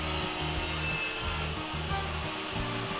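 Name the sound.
cutting out a metal part for a muffler stay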